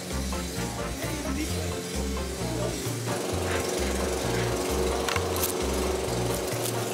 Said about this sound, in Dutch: De buurman die even gaat gras maaien